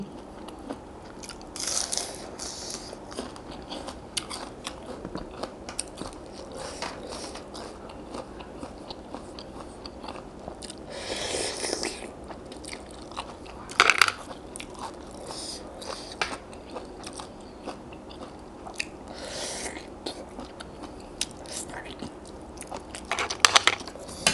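Someone eating a very spicy Thai cockle salad with bitter melon and cha-om greens, close wet chewing and crunchy bites in an irregular rhythm, with a few sharp clicks and short slurps.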